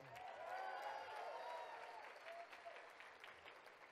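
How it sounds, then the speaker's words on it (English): Audience at a magic show applauds a volunteer returning to his seat, clapping strongest early then thinning, while a voice and a whistling tone sound faintly underneath. "Give him a round of applause for being brave."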